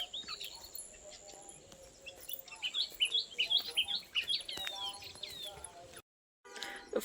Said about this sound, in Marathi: किती वेगवेगळे पाखरं ओरडायले.